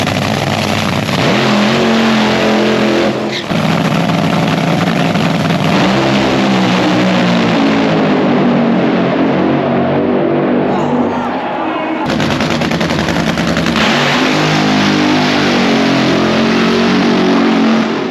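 Race cars roar loudly through qualifying at Bristol, engines revving and dropping in a continuous near-constant blare with shifting pitch as cars pass, one brief break near the middle.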